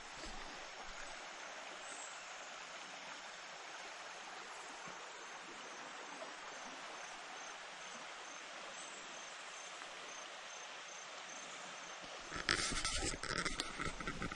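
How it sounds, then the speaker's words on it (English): A creek beside a campsite in Cherokee WMA rushes with a steady broadband wash of flowing water. It sounds close and constant, with a brief louder rustling disturbance near the end. "we're right here next to the creek, so we'll get to hear this all night long."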